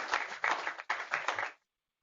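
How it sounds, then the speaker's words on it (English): An audience at a corporate CFO forum claps for a panel speaker, a short burst of close, rhythmic applause in uneven pulses that cuts off abruptly, then briefly resumes at the very end. "Let's have a round of applause for Jignesh"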